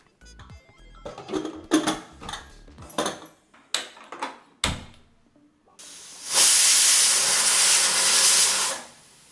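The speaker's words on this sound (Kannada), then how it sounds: "ಈಗ ಕುಕ್ಕರು 1 ವಿಸಲ್ ಬಂದಾಯಿತು." A kitchen pressure cooker on a gas flame lets out one loud, sustained hissing steam whistle for about three seconds, after a run of scattered clinks and knocks of utensils.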